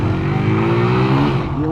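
An Archive Café Racer 125 motorcycle engine revs high and holds a steady, loud, close drone before the pitch dips and climbs again near the end, with no voices over it.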